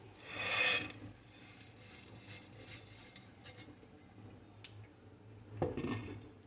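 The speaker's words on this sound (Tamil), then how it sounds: "கடலைப்பருப்பும் வறுத்தாச்சு இதை கொட்டிடுறேன்" Roasted chana dal, browned lightly for idli podi, poured out in a dry rattling rush at the start, with a few fainter scattered clinks and rustles of grains afterward and a last short clatter near the end.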